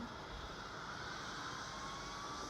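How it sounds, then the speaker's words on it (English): Airbus A340 jet engines spooling up in a flight simulator game, a steady broadband roar with a faint rising whine, continuous and fairly quiet throughout. "now we're gonna be like starting the engines"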